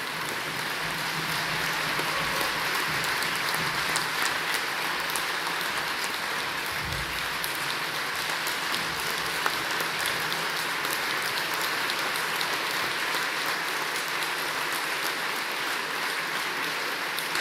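Audience at a public forum on the Uluṟu Statement from the Heart applauding the speakers, a sustained, even roar of many hands clapping that holds steady throughout.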